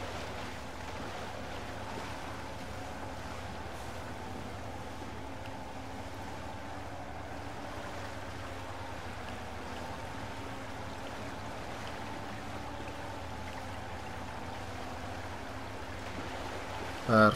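A truck fords a river in the video game MudRunner, with rushing water and a low, steady engine drone running continuously at moderate loudness, no voices over it.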